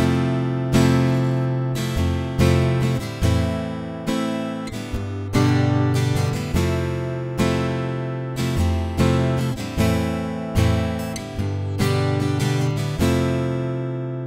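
Acoustic guitar strumming chords in a steady rhythmic pattern, bright and close, with regular downstrokes and upstrokes and no voices.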